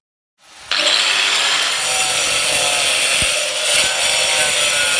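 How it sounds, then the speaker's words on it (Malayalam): A concrete roof tile being cut after marking, a loud, harsh continuous grinding whine that starts abruptly and holds steady for over four seconds, close up. "ഇത് നമ്മളൊരു ഫുൾ ടൈൽ എടുത്ത് വെച്ച് അതൊന്ന് മാർക്ക് ചെയ്തതിന് ശേഷം അത് കട്ട് ചെയ്യുകയാണ് ചെയ്യുന്നത്"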